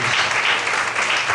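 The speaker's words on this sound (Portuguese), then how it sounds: "Mais forte, aplaude ao Senhor Jesus." A church congregation claps steadily and loudly during a couples' gathering, dense overlapping hands filling the whole moment with no voice on top.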